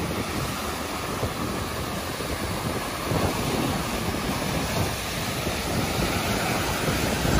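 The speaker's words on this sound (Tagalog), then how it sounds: "malakas pa rin po ang hambalos ng alon dito sa Taywook" Strong waves pound the shore of Manila Bay in a steady, dense roar of surf, mixed with gusting wind buffeting the microphone and swelling slightly midway.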